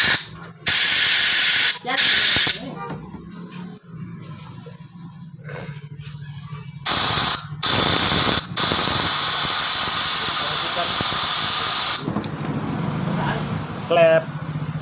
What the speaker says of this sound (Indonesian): kita akan semprot menggunakan angin